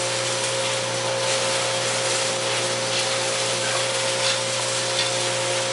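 Cacao beans being sorted by a machine: a steady, loud mechanical whir with a constant hum and a continuous rattling hiss of beans, unbroken for the whole stretch with no voices.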